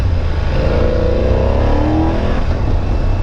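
A BMW F900GSA motorcycle engine revving nearby, a steady loud drone with a rising pitch sweep in the middle, heard alone without talk.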